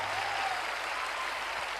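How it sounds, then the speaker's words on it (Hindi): Audience applause at a motivational business talk: a short, dense wash of clapping from a crowd, steady throughout. "जोरदार तालियां बजाइए दोस्तों।"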